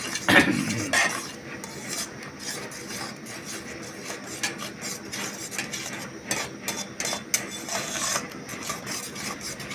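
A spoon stirs jaggery powder into payasam in a metal pot. It scrapes and clinks in irregular strokes, close up, with no speech.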